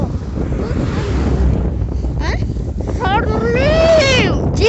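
Wind blowing outdoors, a loud low rumbling buffet across the microphone throughout, with people talking and a whistling voice over it.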